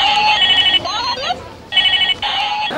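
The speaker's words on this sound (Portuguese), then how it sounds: "Já o desse telefone de brinquedo" A toy telephone rings loudly and shrilly in long electronic bursts, broken by a brief warbling tone before the ringing starts up again.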